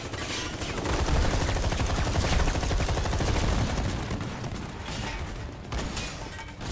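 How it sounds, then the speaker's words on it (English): Gunfire during a bike battle in the video game Final Fantasy 7 Remake, dense rattling bursts of shots with mechanical clatter, fairly loud and continuous. "they're still shooting at you"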